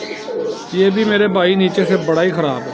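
Pigeons coo steadily in a loft holding Sialkoti Galatu and other fancy breeds, their low rolling calls close and loud beneath someone talking over them.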